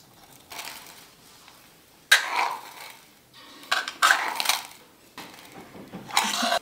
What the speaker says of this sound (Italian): adesso le schiaccio con uno schiacciapatate